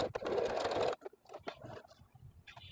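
Sewing machine stitching fabric: a close, steady mechanical whir for about a second, then it stops and soft handling noises of fabric being turned follow.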